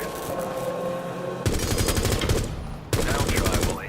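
Video game automatic gunfire at a shooting range target, two loud rapid bursts of machine-gun fire after a quieter stretch of game ambience, close and dense.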